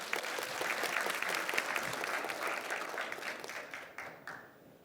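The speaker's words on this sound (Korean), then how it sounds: "힘찬 박수로 맞이해 주십시오." Energetic applause from an audience at an education plan briefing in Chilgok, a steady crowd of clapping hands that gradually thins and fades toward the end.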